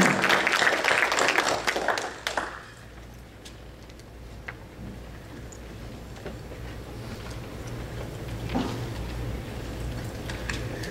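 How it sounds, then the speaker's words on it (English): A short burst of a church congregation clapping hands fills the first two seconds, then fades into the quiet murmur of a room. "Let's start off by giving the Lord a hand clap of praise."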